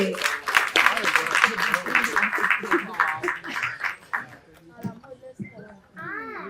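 Audience applause at the Tamil film audio launch of Kambi Katna Kathai, a dense burst of clapping mixed with voices that thins out after about four seconds, leaving speech.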